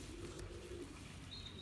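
A Belgian racing pigeon, a blue bar bird, giving a soft, low coo, faint and brief against a quiet background.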